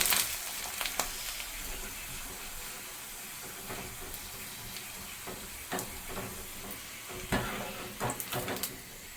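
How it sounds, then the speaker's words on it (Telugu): Semolina papads puffing as they fry in hot oil in a small kadai, a steady close sizzle and hiss with occasional sharper crackles and bubbling bursts. "కొంచెం తగ్గించుకొని ఫ్రై చేసుకుందాము చూడండి ఎలా పొంగుతున్నాయి చూడండి"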